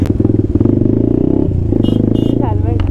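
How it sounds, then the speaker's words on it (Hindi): A motorcycle passes close by on a road in Himachal Pradesh, with a short, loud engine drone and rattle. Voices talk over it. "ओ बाइक"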